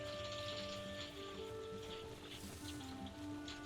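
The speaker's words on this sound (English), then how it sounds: "I apologise for the rain noise in the background." Rain patters steadily on the roof and glass of a conservatory, a faint continuous hiss with scattered drops and a low background hum.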